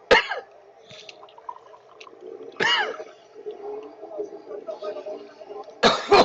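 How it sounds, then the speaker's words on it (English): A person coughs in three sharp bursts spaced a few seconds apart, near and fairly loud, with quiet room noise and faint breathing between them. "Cough it out."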